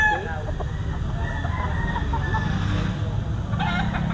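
Several rooster stags, including a Red Kelso, crow and cluck at an outdoor poultry sellers' gathering in rainy weather near a grotto, with loud, repeated calls close by over a steady background din.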